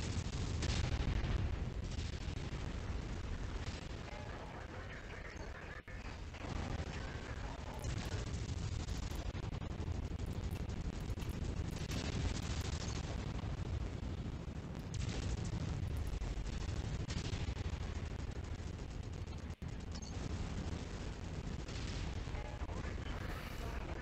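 Heavy weapons fire and explosions in the MechWarrior 5: Mercenaries Rasalhague DLC as a mech keeps shooting after losing its PPC: a dense, continuous wall of booming blasts and rumbling impacts, loud and sustained throughout.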